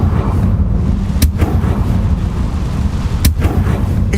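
Confringo fire spell explosions in the video game Hogwarts Legacy, two sharp booming blasts over a heavy low rumbling backdrop.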